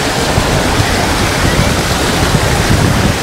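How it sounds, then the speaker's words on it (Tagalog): Malabsay Falls roaring steadily close by, a dense, loud wash of falling water that fills the whole clip, with some wind buffeting the microphone. "malakas yung background noise, yung bagsak ng tubig oh"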